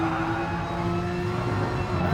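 Porsche SuperCup race cars on medium tires circle the Autodromo Lago Maggiore track in a racing video game, their engines holding a steady, loud droning whine with no break.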